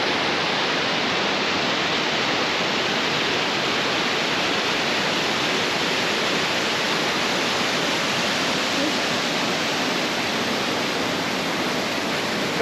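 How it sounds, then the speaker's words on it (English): Waterfalls in Wales swollen after recent rainfall, a dense, constant roaring rush of falling water that fills the air evenly and without pause, with no voices over it. "after the recent rainfall, the waterfalls are pretty spectacular"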